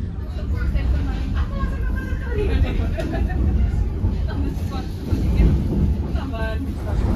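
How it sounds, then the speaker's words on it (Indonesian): Sancaka Utara passenger train rolling along the rails on the northern Pantura line, a steady loud rumble with wind noise throughout, and a voice speaking over it. "perjalanan kereta api Sancaka Utara"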